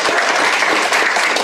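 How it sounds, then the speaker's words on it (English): Brief, loud burst of audience applause during a talk on local school desegregation history in Denver, dense clapping from a full room with no voices over it. "We can give a round of applause to Ed."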